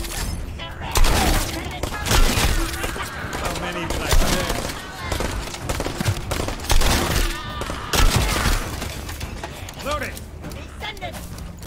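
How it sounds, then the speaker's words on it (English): Shotgun blasts from The First Descendant, an online shooter, fired repeatedly in quick succession amid dense game effects, loud and close, with someone talking over it. "Let's try the shotgun out. Yeah, shotgun's pretty good."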